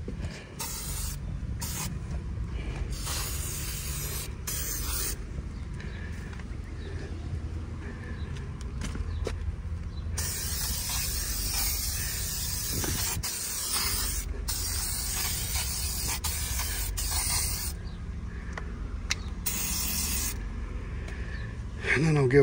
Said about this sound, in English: spray it with the plastic and vinyl coating